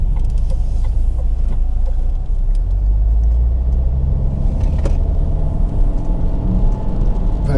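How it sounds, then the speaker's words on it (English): A Vauxhall Astra 1.9 CDTi 8v diesel hatchback drives and swings around a turn, giving a steady, loud low engine and road rumble with occasional creaks and clicks from the cabin, and no talking. "You only really notice a diesel, particularly at lower speeds, because you naturally get more noise from them."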